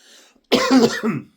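A single short cough, close and fairly loud, after a moment of near silence.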